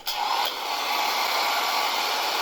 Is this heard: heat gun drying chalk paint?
yes